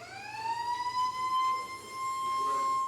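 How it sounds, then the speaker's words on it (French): Siren marking the start of a national exam in Benin, a single rising wail that climbs and then holds a steady loud tone, heard from a moderate distance. "À 8 heures précises, la sirène retentit."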